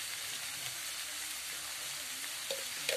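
A vegetable dish with masala and salt sizzles in a hot pan as it is stirred, a steady close crackle and hiss with a couple of light spoon scrapes near the end.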